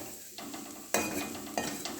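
Cauliflower filling for gobhi paratha is stirred as it fries in a pan, with a soft steady sizzle and three distinct spatula scrapes against the metal.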